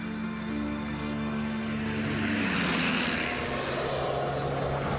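A World War I aircraft engine drones in flight overhead, its steady propeller roar swelling and sweeping down in pitch as the plane passes close by.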